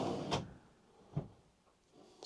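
A soft-close drawer in the kitchen of a 2019 Dethleffs Globetrotter XLi Premium motorhome slides shut, giving a quiet rolling rush and a couple of soft muted thuds, faint and close by.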